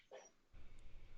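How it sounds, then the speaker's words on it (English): A single short dog bark sounds faintly in the background, a brief yip standing alone against low room noise. "dog started barking"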